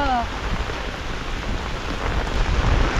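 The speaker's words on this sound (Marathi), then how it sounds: "पाऊस पडतोय" Rain falls steadily as a dense, even hiss, close by and unbroken for the few seconds heard, with a brief faint tonal sound at the very start.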